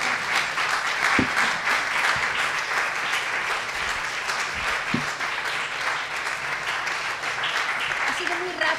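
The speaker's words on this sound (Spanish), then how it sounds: "Un aplauso." An audience claps after a talk, a dense, even round of applause lasting the whole stretch with a few murmured voices underneath.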